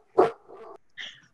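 A single nearby dog gives one sharp bark followed by a short whining yip, brief and alone against silence.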